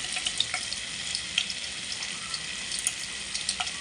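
A bay leaf frying in oil with about one to one and a half spoons of butter, making a faint, steady sizzle with soft crackles and little pops, close by and with no talking.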